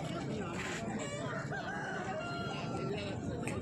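A desi Aseel rooster at a rural livestock market crows faintly in the distance, its call half buried under constant crowd noise and nearby talk.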